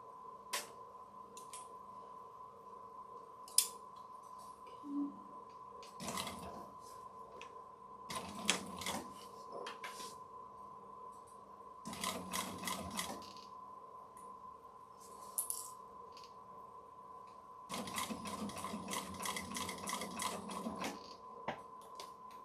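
A sewing machine top-stitches fabric in quiet bursts, with a steady motor hum throughout and several louder rapid needle-clatter runs separated by pauses.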